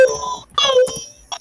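A human voice imitates little wiener dogs whining, producing a few short, high, nasal whimpering wails in quick succession.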